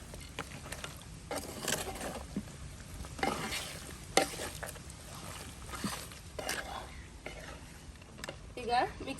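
Country chicken sukka, Mangalorean style, with onion, tomato and rock salt, stirred in a dry pan without oil: a spoon scrapes and clatters in irregular bursts over a faint sizzle.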